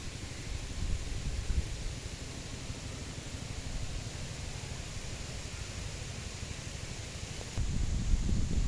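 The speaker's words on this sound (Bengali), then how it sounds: "বাতাসের শব্দটা অনেক তীব্র, অনেক জোরে।" Strong spring wind blowing steadily through tall eucalyptus trees and a rice field, a continuous loud rushing roar that swells briefly near the end.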